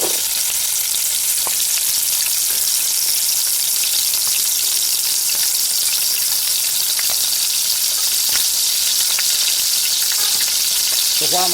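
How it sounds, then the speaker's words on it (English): Sausage browns in a warming Dutch oven for swamp soup, a loud and even frying sizzle that carries on steadily with a few faint clicks and pops from the pot. "So while my sausage is browning up a little bit"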